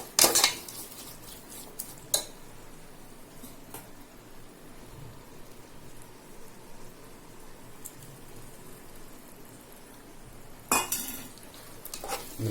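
A spoon scrapes and clanks against a pot while mutton biryani masala is stirred and mixed, with a few sharp metal knocks at the start and near the end and softer scraping in between.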